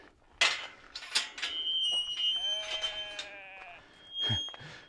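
Sheep bleat on a Norwegian hillside, with a few wavering, drawn-out calls at moderate distance amid wind and outdoor noise, plus a lower bleat near the end.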